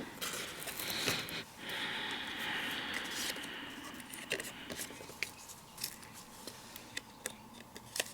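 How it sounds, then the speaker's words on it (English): Scissors cut paper in half for card making, a few quiet snips and rustles close by, with soft ticking handling noises afterward. "I'm going to cut this in half because I don't want too much."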